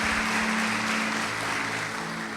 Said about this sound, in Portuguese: Uma salva de palmas para os nossos tesoureiros.